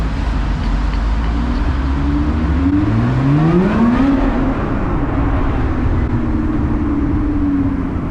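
A Lotus 3-Eleven accelerates hard under pushed throttle on city streets in Eindhoven, its engine note rising through rapid climbing sweeps before settling into a steady loud drone, heard close from onboard with no talk.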